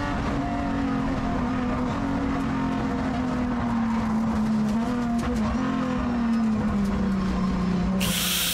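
A NASCAR Brasil race car at Londrina brakes sideways through the dirt while overtaking, its engine droning as a steady, slowly falling tone under continuous loud road and tire noise, heard from inside the car.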